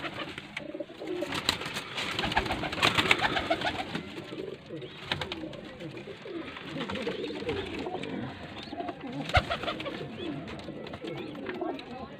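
Faisalabad pigeons coo steadily in a loft, with soft repeated throaty calls layered together and people talking over them throughout.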